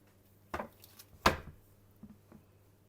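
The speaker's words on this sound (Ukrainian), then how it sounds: "Так, нарізаю." A knife cuts through homemade pizza in two quick strokes, the second louder and crisper, followed by a couple of faint soft taps in an otherwise quiet room.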